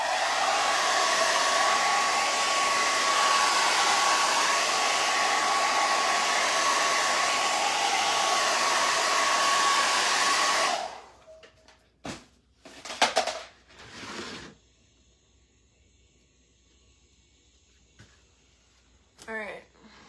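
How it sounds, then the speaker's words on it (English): A hair dryer blows steadily and loudly over wet paint on a reindeer craft piece for about ten seconds, then shuts off, followed by scattered clinks and handling clatter of supplies. "let's just quickly run a dryer over that"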